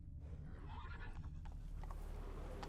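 Roach the horse neighing in The Witcher 3 video game, a faint whinny over a low constant rumble of game ambience and hoofbeats, with a few soft scattered clicks.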